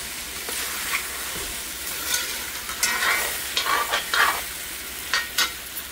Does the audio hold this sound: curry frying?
yes